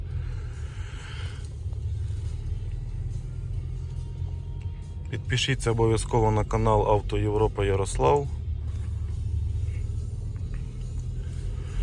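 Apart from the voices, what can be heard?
2018 Mercedes-Benz GLE driving on a test drive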